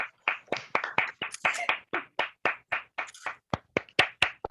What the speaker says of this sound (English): let us all stand and give a royal applause to our President